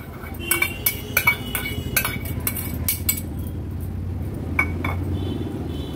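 A spoon clinks repeatedly against a pot while grated pumpkin is mixed into water, with a bright cluster of taps early on followed by quieter scattered clinks.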